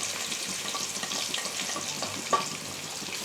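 Chopped onion goes into oil left from frying chicken, making a steady, close frying hiss with light spoon stirring and one brief clink, no speech.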